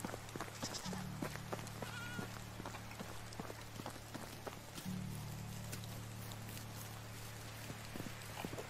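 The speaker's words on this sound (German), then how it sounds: "Klappe, ihr blöden Ziegen." Goats bleat twice in the medieval village game Medieval Dynasty, each call a brief, moderately near nasal bleat a few seconds apart over a busy bed of footsteps, insects and ambient outdoor noise.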